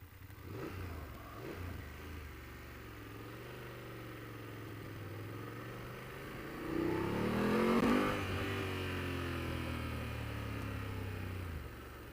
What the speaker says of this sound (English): I'm twisting the throttle. I'm rolling my hand like this.